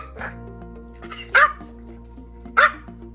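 Two sharp dog barks, about a second apart, ring out over a low steady hum.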